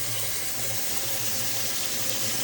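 Water runs steadily from a kitchen faucet sprayer hose at a remodeling site, making an even, close rushing hiss for the whole moment.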